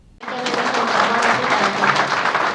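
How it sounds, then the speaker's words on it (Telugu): Audience at a press meet bursts into sustained, loud clapping that starts abruptly and continues steadily, with faint voices beneath. "no claps please no claps please"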